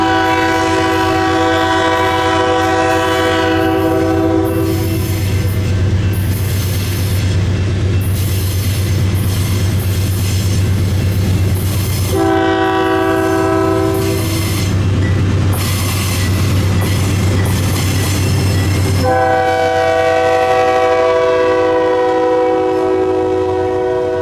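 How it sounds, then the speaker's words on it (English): A loaded ore train hauled by three C40-8 locomotives heading toward Two Harbors, its horn blaring in long loud blasts over a steady deep engine rumble and rolling wagon noise, close by throughout. "A loaded ore train was making its way towards Two Harbors with another trio of C40-8 locomotives."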